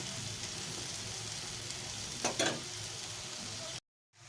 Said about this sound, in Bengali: এটা আমি আস্তে আস্তে এইভাবে আরও পাঁচ মিনিট মাঝে মাঝে নাড়ব এটাকে এর রসটাকে আরও শুকিয়ে দেব